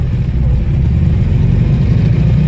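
A ZAZ-965 humpbacked Zaporozhets engine sputters to life while firing on only one or two spark plugs, a loud, steady low rumble that runs the whole stretch with no voices.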